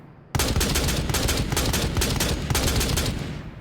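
Rapid automatic rifle fire in Rainbow Six Siege, a loud continuous burst of closely spaced shots that starts abruptly after a brief quiet moment and runs to the end, with no talking.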